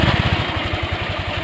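A Honda Vario 125 scooter engine runs after its spark plug has been cleaned, giving a close, loud, steady idle with a rapid even pulsing throb.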